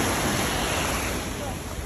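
Ocean waves break and wash on a beach shore in a steady, loud broadband roar with wind buffeting the microphone, filling the whole stretch without pause.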